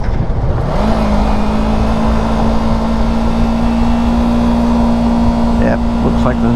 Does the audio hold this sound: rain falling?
no